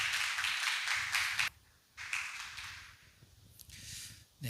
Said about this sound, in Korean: 감사의 박수 부탁드리겠습니다